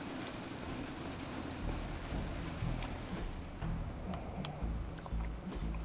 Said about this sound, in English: they really made the rain falling on the roof of this place loud